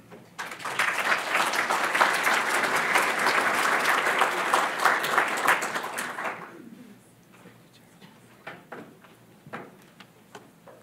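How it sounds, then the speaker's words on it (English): A crowd claps loudly and steadily for about six seconds, then the applause stops abruptly, leaving a few scattered light taps and clicks in a quiet room. "let's give another round of applause to our morning presenters"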